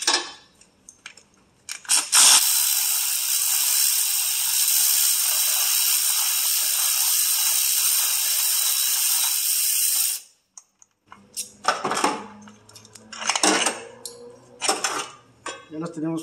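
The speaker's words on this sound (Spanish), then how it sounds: "Tenemos los tornillos que van aquí para sacar el soporte, ya lo sacamos." Bolts come off a radiator support bracket on a 2004 Pontiac Grand Prix 3.8 as a power tool whirs steadily for about eight seconds, then stops, followed by close metallic clinks and handling noises.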